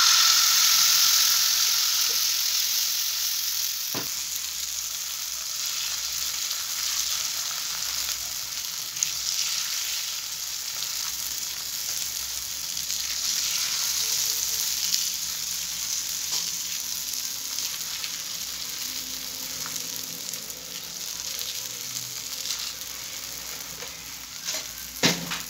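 Rice flour roti cooking on a hot griddle, a steady soft sizzle and hiss that runs unbroken throughout with no talking.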